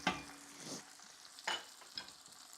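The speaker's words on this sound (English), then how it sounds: "Sweating the shit out of these onions" Onions sweat in a pan with a faint, steady sizzle, punctuated by three brief stirring scrapes close by.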